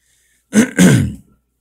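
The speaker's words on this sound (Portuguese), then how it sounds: "Vocês me perdoem esse pigarrinho aqui" A preacher's single throat clearing during a sermon in two quick, rough bursts, close and fairly loud, then silence.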